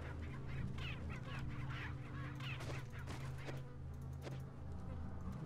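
A chicken clucks quietly in Resident Evil 4 HD, a run of soft, repeated clucks over a low background hum.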